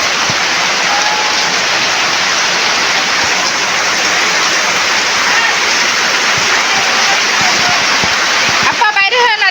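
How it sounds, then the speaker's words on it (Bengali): Floodwater rushes steadily around a flooded house, a dense, continuous roar of flowing water, loud and close throughout, with a brief voice near the end. "ওগুলো দিয়ে পানি চলে আসছে সেদিকে।"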